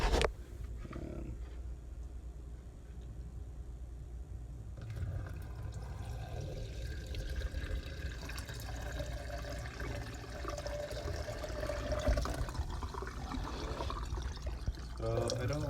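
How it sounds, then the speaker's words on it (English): Water from a clownfish tank is siphoned through a tube into a container, giving a continuous gurgling, trickling flow that runs steadily close by. "just siphon a gallon out and then put it in with the fry"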